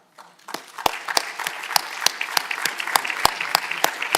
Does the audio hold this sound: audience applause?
yes